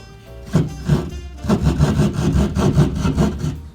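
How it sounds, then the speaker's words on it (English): A saw cuts through drywall in a basement with close, steady back-and-forth strokes that settle into an even rhythm after a brief start, with no talking. "Now we just take the saw."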